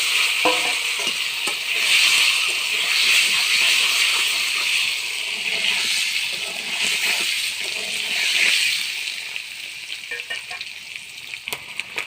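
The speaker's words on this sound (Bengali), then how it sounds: "এবার ডিমগুলো ভেজে নেব।" Eggs seasoned with salt and turmeric fry in hot oil in a pan, sizzling and crackling loudly and steadily, with occasional stirring knocks and spatters close by.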